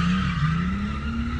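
A BMW E36 with a new exhaust revs on the throttle, a loud, steady raspy engine tone rising slightly in pitch as it holds a high rev.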